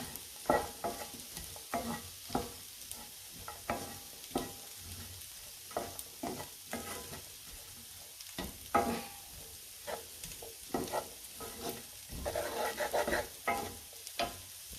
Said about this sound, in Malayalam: അത് മൂന്നും കൂടെ നമ്മൾ ചെറിയൊന്ന് വഴറ്റിയെടുക്കുക.